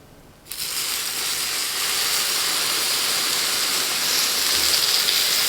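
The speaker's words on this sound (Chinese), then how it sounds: "这时候我们加入半杯的温水" A sudden loud hiss bursts in after a brief quiet start and holds steady as half a cup of warm water hits a hot pan of frying dough rolls and steams continuously.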